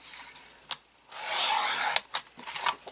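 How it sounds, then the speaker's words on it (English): A paper trimmer blade slides across a sheet of white 8.5 by 11 cardstock, cutting it in half. A close, dry scraping rasp lasts about a second, with a few short taps and clicks before and after. "So I'm just going to pull my trimmer over."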